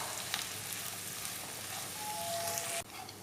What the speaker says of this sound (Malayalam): എടുത്ത് വെച്ച ചെമ്മീൻ ഇടാം അതിലേക്ക് വറുക്കുന്നതിന് വേണ്ടിയിട്ട്